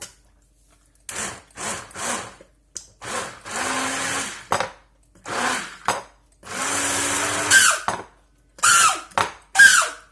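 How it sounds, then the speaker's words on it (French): A blender whirs in repeated loud bursts, starting and stopping about a dozen times with short silent gaps between pulses. "Je vais le transvaser pour pouvoir le mixer. Voilà, je mixe."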